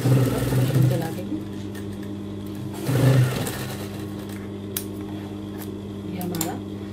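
Sewing machine stitching elastic onto kids' dungarees, short buzzing runs of stitching near the start and again around the third second, with someone talking over a steady background hum.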